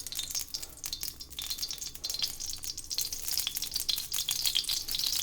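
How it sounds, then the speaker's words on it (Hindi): Mustard oil sizzles and crackles steadily in a hot wok on a home stove, a dense continuous frying hiss close up with faint utensil movement and no talking. "यहाँ डाल रही हूँ मैं थोड़ा सा सरसों का तेल।"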